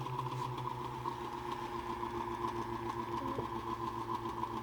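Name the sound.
Muller motor generator motor lugging while charging capacitor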